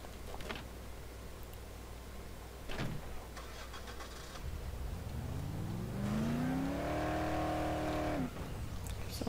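A car engine in the video game Dead Island cranks and catches, rising into a steady idle with tonal hum for a few seconds, then cutting off, loud and close after quiet ambient game sounds.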